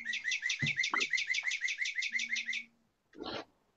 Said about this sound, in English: that was my cell phone. It's a cardinal.